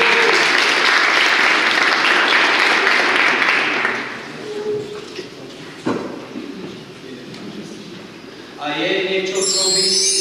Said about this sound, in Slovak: Potlesk pre vás, výborný úvod.